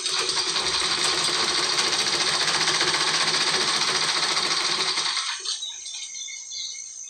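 A sewing machine stitches a fall onto a saree, running in a fast, even, close mechanical chatter that stops abruptly near the end, leaving a faint lingering whir.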